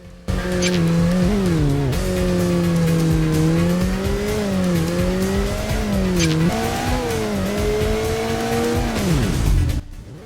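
A car engine in the Headhunter video game drones loudly and continuously, its pitch rising and falling as it shifts and accelerates, with a brief tire squeal before it cuts off abruptly at the end.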